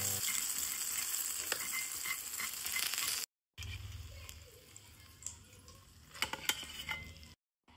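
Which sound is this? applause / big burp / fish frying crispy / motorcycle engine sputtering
fish frying crispy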